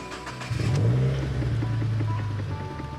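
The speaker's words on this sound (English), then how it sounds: "Let's do a nice little startup and go back under the car and see how everything sounds." A Subaru WRX, 2015 or later, starts up after an exhaust leak repair: a brief crank, then a rising rev that settles into a smooth mid-pitched idle, close by with no talk.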